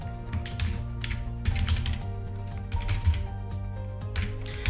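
Keys clatter on a computer keyboard as an email address is entered into a CRM reporting form, bursts of close, crisp taps over a steady low hum.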